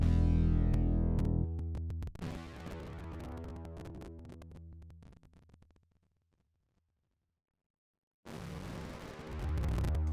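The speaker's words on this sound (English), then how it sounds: "it's called the classic Roland synth brass." Classic Roland synth brass patch from Omnisphere, playing loud, dense sustained chords that thin out and fade to silence, then return abruptly at full strength after a short gap.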